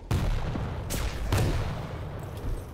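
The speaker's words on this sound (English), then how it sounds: "Zeniko hit a big rocket, bounced Dramas up in the air" Rocket launcher blasts in a competitive video game duel, a couple of sharp booming explosions with bursts of crackling gunfire around them, loud and close, no voices.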